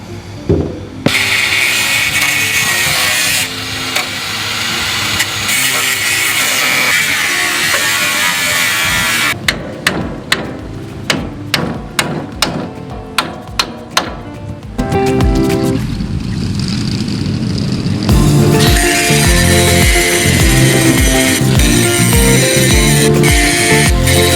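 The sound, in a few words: cutting metal mounting brackets off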